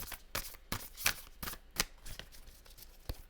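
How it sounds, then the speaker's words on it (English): Moonchild Tarot cards handled and drawn for a reading, a quick series of sharp close riffling snaps and card flicks in an uneven rhythm, heard alone without talk. "I'm gonna use the Moonchild Tarot to pull a reading, and I pull 5 cards"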